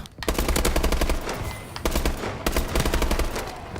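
An S12 shotgun fires in rapid automatic bursts in a video game, loud, close and sharp, with rhythmic shots across the span and a brief pause in the middle.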